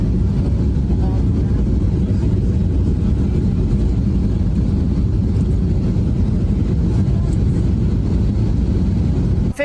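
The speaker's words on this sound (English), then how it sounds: "15 minutes after our plane touched down, a migrant flight from Fort Bliss came in." A migrant airplane from Fort Bliss landing at Guantanamo Bay, heard as a loud, steady, low engine rumble that fills the whole stretch without a break.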